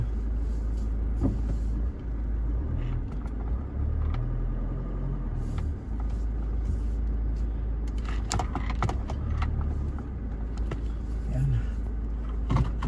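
A car rolls slowly out through the gate of a farm, its engine a steady low rumble throughout, with occasional clunks and rattles toward the end.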